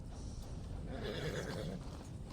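A horse in Red Dead Redemption 2 lets out a whinny mid-clip, a rising and falling neigh over low rumbling background noise, fairly close and without talk.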